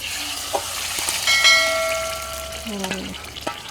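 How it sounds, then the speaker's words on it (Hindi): Hot oil tempering sizzles and crackles as it is poured into chana dal with spinach, with a clinking metallic ring from a utensil against the pot. "तड़का हम डाल रहे हैं दाल में"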